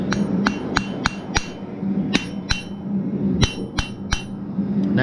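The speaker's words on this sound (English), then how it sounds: "Maybe hammer that down a little bit." Sharp metallic hammer strikes on hot metal ring out repeatedly in an uneven rhythm, close and loud, with no voices.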